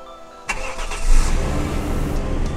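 A Toyota Crown Royal Saloon S150 engine cranks and catches about half a second in, then settles into a loud, steady idle close by, with no talking.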